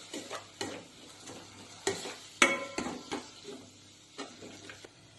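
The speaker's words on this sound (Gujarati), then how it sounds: "ખાંડ લીંબુનો રસ હવે આ બધું આપણે બરાબર મિક્સ કરીશું" Onion-tomato masala with sugar and lemon juice for sev usal is stirred in a pan, a quiet sizzle broken by separate scraping and tapping strokes of a spoon against the metal, irregular and close, without speech.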